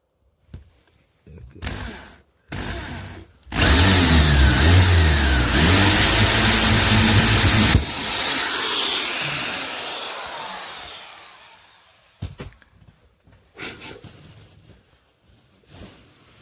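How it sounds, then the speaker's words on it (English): A Black & Decker cordless drill whirs loudly for about four seconds with a steady motor pitch, then winds down, with short knocks and clatter before and after. "got a cordless drill"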